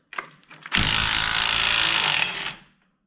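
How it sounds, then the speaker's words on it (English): A power tool spins off the bump stop nut on a GMC Jimmy/Blazer truck's suspension during a lift install: a brief buzz, then a loud, steady two-second whir up close that cuts off and fades. "we got to go ahead and remove the bump stop nut"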